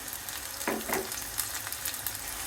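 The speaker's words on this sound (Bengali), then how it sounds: "দিয়ে দিচ্ছি পেঁয়াজ কুচি, একটু নেড়ে ভালো করে মিশিয়ে নিচ্ছি" Chopped onions sizzle in a hot pan while being stirred, with a steady close fry hiss and a couple of brief scraping stirs near the middle.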